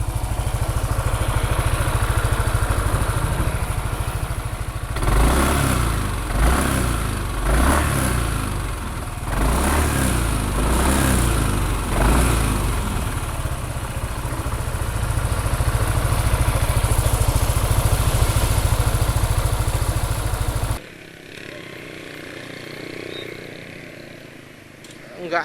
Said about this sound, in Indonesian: jadi seperti ini ya suara mesin saat idle ya